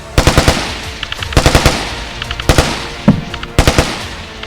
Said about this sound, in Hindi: से गोलियों की बारिश,